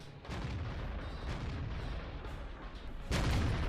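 Tank cannon fire in the World of Tanks video game, with an enemy STA-1 shooting HEAT rounds at an IS-6: a steady low engine rumble, then a heavy boom near the end.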